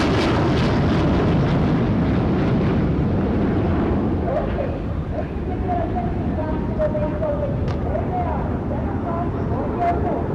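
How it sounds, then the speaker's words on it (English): Indian Air Force aircraft flying past in formation at an anniversary air display, a loud rumbling roar over crowd noise, with a rising tonal whine as the jets pass. "Now we can see some aircraft coming in front of us."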